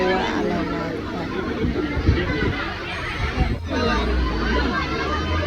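A dense crowd of visitors at Byculla zoo in Mumbai chatters as a continuous babble of many overlapping voices, close and steady, with a few louder bumps and thuds.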